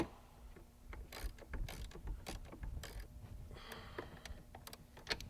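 Strut mount nuts on a 1998–2004 Cadillac STS are tightened with a ratchet, giving rapid close metallic clicking in short runs, fairly quiet, with no talking.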